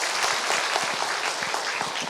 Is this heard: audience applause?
yes